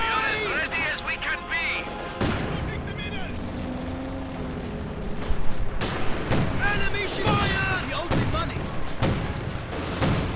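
Gunfire and artillery in a WWII real-time strategy game, with Soviet forces facing German grenadiers and Panther tanks, crackling in bursts with sharp bangs and rumbling engines under a commentator's steady voice.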